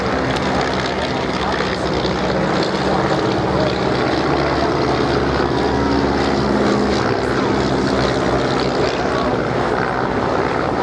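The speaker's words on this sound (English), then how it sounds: "fantastic noise you'll hear throughout the display is the operated Garrett TPE turboprop engine" Loud, continuous roar of a Garrett TPE turboprop aircraft engine at an air display, steady and droning with a whining edge, filling the whole stretch without pause.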